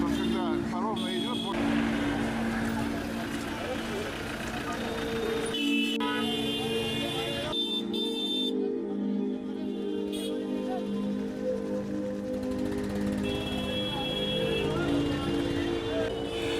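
Busy Chandni Chowk street in Old Delhi crowded with rickshaws, motorcycles and cars: continuous traffic rumble with repeated horn toots and honks, a dense close street din throughout.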